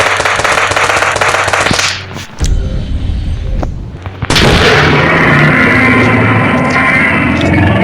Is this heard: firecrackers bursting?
yes